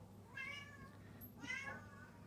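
A house cat meowing indoors, two drawn-out meows about a second apart, faint and close, with no talk over them.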